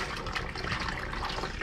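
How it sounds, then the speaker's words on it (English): Cold water running steadily from a tap in an old mobile home, a continuous close splashing rush with no pauses or talk. "this is my cold water, which is flowing really good for some reason."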